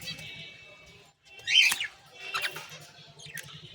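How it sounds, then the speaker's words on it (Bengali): Two pairs of finches calling in captivity, giving a few short, thin chirps in separate bursts against a quiet room background. "দেখতে পাচ্ছ 2 জোড়া ফিঞ্চ পাখি"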